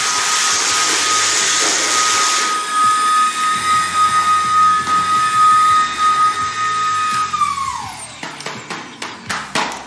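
A Milwaukee job-site vacuum roars loudly as it sucks up debris, its steady motor whine dropping sharply near the end as the intake bogs down and clogs, followed by rattling, sputtering bursts.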